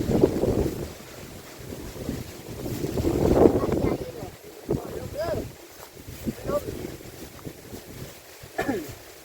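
Strong outdoor wind buffets the microphone in loud rumbling gusts at a straw-mushroom growing site, while people talk over the blustery roar.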